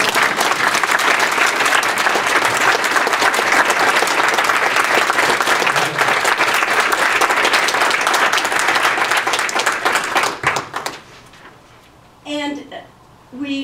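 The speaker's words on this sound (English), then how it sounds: "think we can applaud" Loud, sustained applause from an audience at a leadership appreciation and transition ceremony, dense clapping filling about ten seconds before tapering off, followed by a brief quiet spoken voice.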